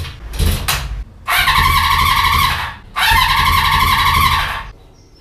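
A Honda motorcycle engine cranks in three attempts. The first is a short stutter and the next two are long, whirring cranking bursts, each ending without the engine catching. All three are loud and close.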